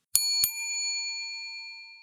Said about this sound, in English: That was the double bell.